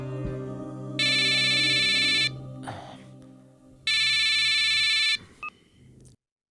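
Phone ringtone for an incoming call in a Marathi TV serial, two long loud bursts of electronic melody separated by a pause, over a low background hum, with no talking.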